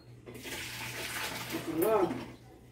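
Water drains from soaked jiló strips into a sink, a close rushing pour that swells briefly and then stops, with a faint hum underneath.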